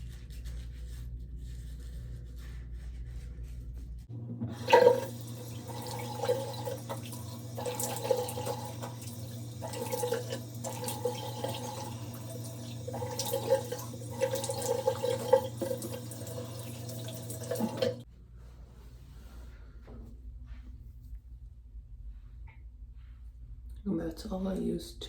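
Running water at a bathroom sink while a face is washed, a steady splashing tap flow that starts abruptly, runs continuously for some seconds, then cuts off, leaving quiet dripping and faint rubbing.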